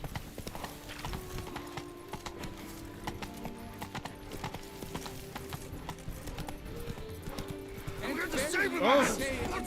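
The horse Roach in the video game Witcher 3, its hooves clip-clopping in a quick, steady galloping rhythm under game music, ending in a loud neigh. Someone speaks briefly.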